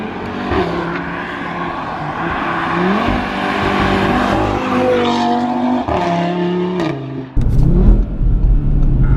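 A 2018 Audi RS3 with a 510 bhp engine revs hard and loud, its note climbing and falling through several sustained pulls before a sharp, louder burst near the end, with no talking over it.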